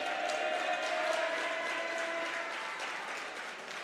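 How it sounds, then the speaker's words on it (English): A Cape Cod Academy crowd at a boys high school basketball game applauds steadily as a player leaves the court, a dense clapping wash that slowly fades. "getting a little bit of an applause from the Cape Cod Academy crowd here as he comes off the court"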